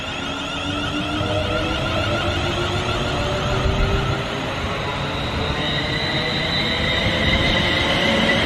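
A West Coast passenger train from London Euston via Northampton rolls past with a steady loud rumble, squealing wheels and rising and falling tones, heard continuously throughout without talk.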